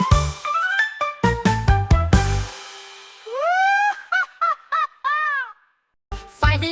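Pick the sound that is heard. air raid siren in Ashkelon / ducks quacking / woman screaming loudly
ducks quacking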